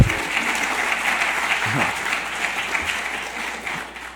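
Audience applause at a keynote welcome session, a steady wash of many hands clapping that holds at an even level for about four seconds, with a voice faintly speaking over it.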